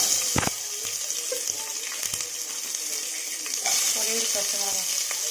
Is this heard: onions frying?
yes